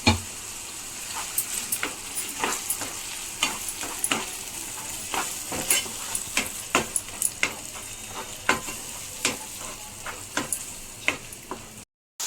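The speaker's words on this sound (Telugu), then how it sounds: "ఇది పచ్చివాసన పోయేంత వరకు అయితే ఒక ఫైవ్ మినిట్స్ అయితే ఫ్రై చేసుకుందాం" Soft sizzling of tomato paste frying in a pan, punctuated by frequent sharp scraping taps of a spoon stirring, close and steady.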